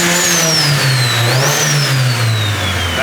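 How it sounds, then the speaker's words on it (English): Dream Turbo SR-Z car engine revving hard, a loud close rumble with a rising and falling turbo whistle over it, steady and continuous with no talk. "It has so much turbo noise now."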